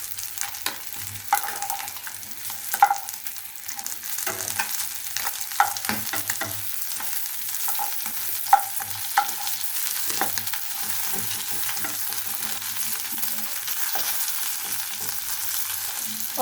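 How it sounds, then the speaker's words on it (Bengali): Chapila fish fries crisp in a pan, a quiet, continuous close sizzle with small pops and crackles scattered throughout. "মাছটা আমার মশমশা করে ভাজা হয়ে গিয়েছে"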